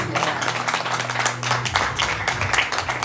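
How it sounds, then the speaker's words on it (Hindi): Audience clapping after a singer's performance at a tribute gathering, a dense steady patter of many hands under a low hum, close and moderately loud throughout. "तालियां बड़ी बनती हैं।"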